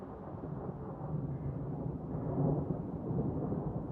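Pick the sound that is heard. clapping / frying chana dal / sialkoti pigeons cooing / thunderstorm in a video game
thunderstorm in a video game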